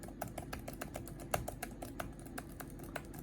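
Rapid, irregular key clicks from a faulty Dell laptop keyboard, close and fairly quiet, with light taps and a few sharper strikes over a steady background hum.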